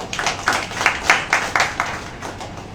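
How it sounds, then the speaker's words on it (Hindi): A church congregation claps in rhythm, about a dozen sharp, evenly spaced claps filling the room, loud and close with no talk over them. "डब्लू के लिए ताली ताली।"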